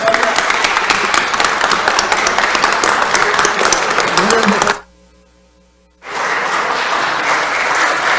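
Applause breaks out in a Colombian Senate session, a loud dense clapping from the chamber. It stops abruptly for about a second of near-silence with a faint hum, then resumes just as strongly.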